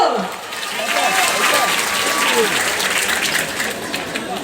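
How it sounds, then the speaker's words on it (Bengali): Audience applause at a stage event rises and holds as a steady wash of clapping for a few seconds, loud and close, then begins to fade, with a voice faintly over it. "হাততালির আওয়াজ ভালো করে শুনতে পেলে"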